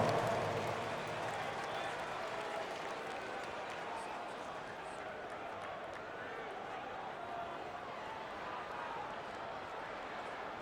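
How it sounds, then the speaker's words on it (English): Broad, steady crowd applause and cheering filling the whole stretch, a dense wash of clapping with arena noise underneath. "Give yourself a big round of applause."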